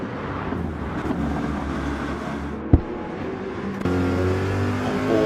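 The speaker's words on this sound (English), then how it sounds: "Corvette's then bumper to bumper running up towards turn 3." Corvette GT3 race cars in a racing video game climb the hill at Mount Panorama, Bathurst, running bumper to bumper, their steady engine drone rising in pitch as they accelerate, with a sharp click midway.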